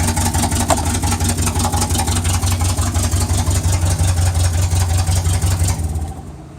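A 1961 Series II Land Rover engine with a spark plug fault runs roughly at idle, a loud, close, uneven chugging with rapid regular pulses that drops away near the end.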